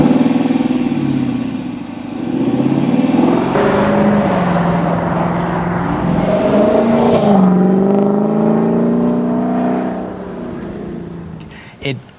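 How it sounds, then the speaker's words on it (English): A 2018 Lexus LC500 V8 revs and rumbles with a deep exhaust note, rising and falling through several loud close pulls, with someone talking over it. "The sweet, sweet exhaust system of this LC500 just exemplifies what a luxurious V8 should sound"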